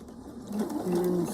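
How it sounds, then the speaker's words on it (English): A sewing machine stitches along a marked line, a short whirring burst of motor hum with a faint rising pitch, quiet and close, running about a second. "we'll sew along that line"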